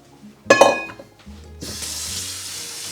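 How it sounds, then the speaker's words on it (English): Clam meat is rinsed under a running tap in a kitchen: a clatter of handling first, then a steady rush of water pouring close by. "So we have a pound of clams here, and this is clam meat, and we have to rinse it off first."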